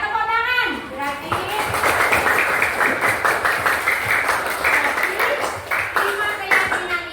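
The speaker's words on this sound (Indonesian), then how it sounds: "Tepuk tangan." Classroom of children clapping together on cue, a dense burst of hand claps with some rhythmic unison, close by, mixed with a few young voices and a teacher speaking over the start.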